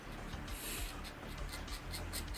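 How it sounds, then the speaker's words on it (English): Pen nib scratching across paper, close and intimate: a fine, continuous rasp broken into short strokes with a quick, irregular rhythm, no voices. "I like the scratching sound of a nib."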